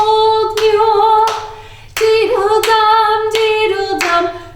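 Children clap their hands together in time with a sung singing-game, the sharp claps landing in an even rhythm beneath the song, with their voices and the music continuing throughout.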